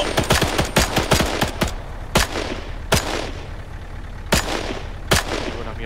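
Gunfire in the Arma 3 military simulation: a rapid burst of sharp shots followed by separate loud single reports spaced a second or so apart, close and crisp with no talking.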